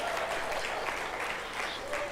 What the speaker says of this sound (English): Take a bow, give him a round of applause.